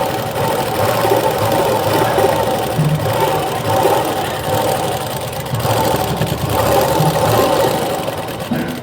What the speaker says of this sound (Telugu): ఇప్పుడు ఎడ్జెస్ కుట్టుకుంటూ రండి.